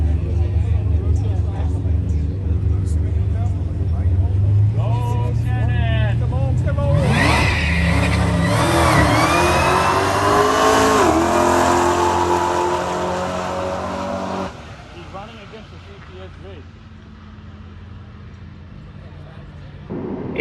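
A 2021 Tesla Model 3 accelerates hard on the road, its electric motor whine climbing in pitch with tire and road roar for several seconds before easing off, while a voice talks over it.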